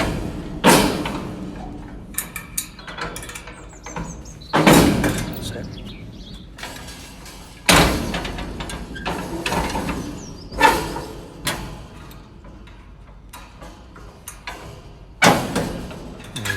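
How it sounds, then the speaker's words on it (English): The tipper body on a 2015 VW Crafter 2.0 TDI single cab tipper truck operates with repeated loud metallic thumps, clanks and mechanical creaks at irregular intervals, close by, with some talk in between. "Obviously I want to show you the tipper working"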